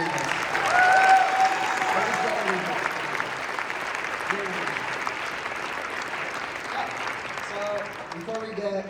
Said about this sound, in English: I want to hear another round of applause from these trumpet players